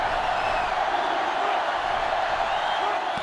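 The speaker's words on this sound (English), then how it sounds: "They're really struggling now as this crowd is going absolutely insane." Stadium crowd in the video game NCAA Football 2005, Notre Dame versus LSU, roaring as a steady, loud wash of massed cheering and whooping with no break across the whole stretch.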